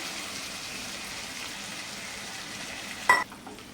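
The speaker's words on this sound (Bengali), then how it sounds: "সেই ডালটা এবার ঢেলে দিলাম।" Boiled mung dal fries in a hot pan with a steady, even sizzle, then a single sharp knock near the end, no talking.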